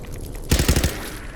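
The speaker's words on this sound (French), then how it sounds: "Ouais, c'était une mitraillette." A submachine gun fires a rapid burst of about five loud shots in the video game Fallout 4, sounding alone after a quiet stretch.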